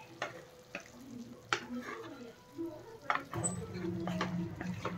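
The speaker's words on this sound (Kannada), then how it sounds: "ಸೊ ಈಗ ಮಿಕ್ಸ್ ಮಾಡೋಣ." Chicken masala with Maggi being stirred in a frying pan, with soft scraping strokes and clinks of a spoon against the pan over a steady low sizzle, close and fairly quiet.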